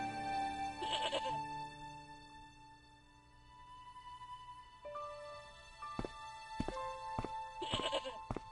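Goat bleats in a video game set in Lokmarn, a short wavering bleat near the start and another near the end, with sharp clicks and game music tones between, no talking.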